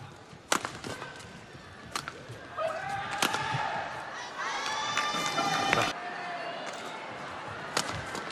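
Badminton match crowd cheering and shouting in the arena, rising in a sustained swell midway, punctuated by sharp shuttle hits and squeaking shoes.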